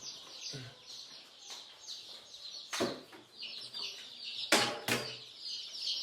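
Local chickens cluck and chirp on a Ugandan poultry farm, a busy flock of overlapping calls with a few louder squawks rising above a steady background chatter.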